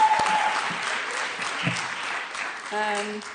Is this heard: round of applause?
yes